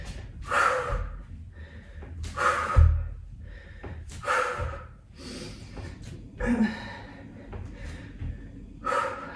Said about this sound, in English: Keep those nice noisy exhales going.